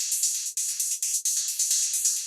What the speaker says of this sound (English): You can hear those repeats, giving it kind of a nice rhythmic effect